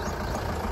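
A jeep engine idles with a short, steady low rumble, heard close by with no talking.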